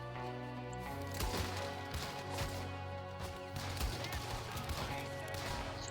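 Gunfire in the video game Red Dead Redemption 2: repeated sharp shots cracking out at irregular intervals over a steady, tonal game soundtrack.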